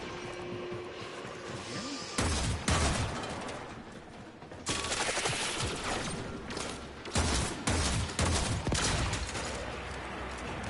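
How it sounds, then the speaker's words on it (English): Video game gunfire aimed at the player, heard as loud bursts of rapid shots in several clusters with short gaps, mixed with mechanical clatter, no speech. "Something just started shooting me."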